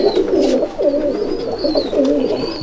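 Pigeons in a loft coo close by, with repeated soft, throaty rolling calls overlapping in a steady rhythm and a few faint higher chirps behind them.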